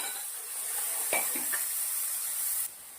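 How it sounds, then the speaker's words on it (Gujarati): Chili and tomato gravy hits onions, ginger and garlic already fried in a pan, giving a steady loud sizzle with a few stirring scrapes, and nobody talks. "ડુંગળી શેકાઈ ગઈ છે, આપણી મરચા અને ટામેટાની ગ્રેવી નાખી દઈશું।"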